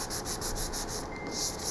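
Rhythmic sanding strokes on a resin piece scrape back and forth at a steady pace, soft and close, with no voices.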